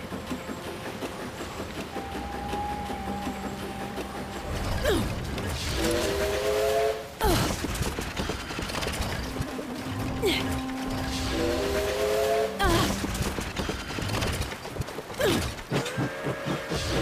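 In Bayonetta 3, Bayonetta transforms into a train, bringing loud steam-whistle blasts, chugging rail rumble and clanking wagon noise, with repeated whistle tones rising over a busy game soundtrack and a voice talking.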